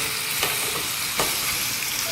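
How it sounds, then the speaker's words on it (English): Honey ginger garlic shrimp sizzle and caramelize in a hot pan, a steady close frying hiss with a couple of faint stirring clicks, no voices. "you can see it's caramelizing the shrimp and the sauce"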